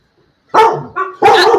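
Dogs bark close by and loudly in two bursts separated by a softer yip, with the whole outburst lasting about a second against an otherwise quiet room.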